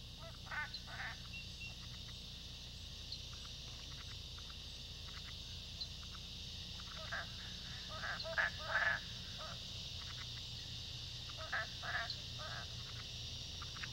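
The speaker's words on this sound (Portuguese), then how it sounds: "A floresta ressoa todas as noites com dúzias de espécies de rãs grasnando à procura de um par" Nighttime forest chorus of dozens of frog species croaking in short bursts over a steady high insect-like drone, with several louder calls clustered near and far.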